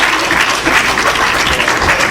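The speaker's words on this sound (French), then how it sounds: "Un applaudissement pour Frère Fayot." A congregation at a French-language worship gathering applauds a guitarist, a continuous, loud burst of many hands clapping together without pause.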